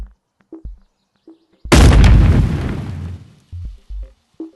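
A single loud gunshot blast from a weapon in the VR game Animal Company, bursting abruptly and decaying over about a second, with short quiet clicks and taps before and after.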